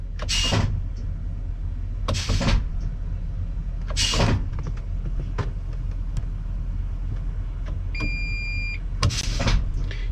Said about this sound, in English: Can you hear the air shifter outside there?